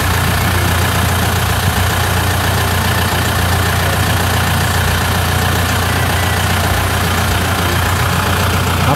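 A Steyr 40 tractor engine runs steadily while reversing on a farm, a loud, continuous low chugging drone that stays even throughout.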